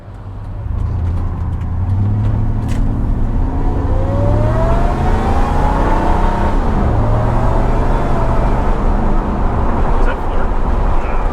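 A supercharged Ford Harley-Davidson pickup truck drives along with a steady, low engine rumble and road noise throughout, while people talk inside the cab.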